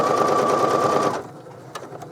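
A sewing machine stitches a curtain rod pocket with a fast, steady whirring buzz for about a second, then stops, leaving quiet handling clicks.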